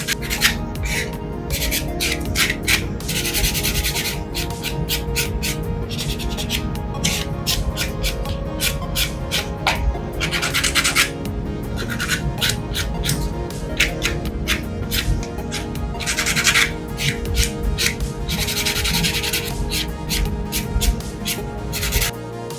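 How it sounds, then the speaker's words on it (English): Steady rubbing and rasping of a nail buffer across acrylic nails, close up and continuous, with brief louder bursts of strokes. "So now we can take the buffer and start buffing the nails."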